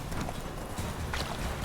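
Horse hooves clip-clopping in The Witcher 3 video game, a steady trotting rhythm buried under a dense, loud wash of game ambience and music.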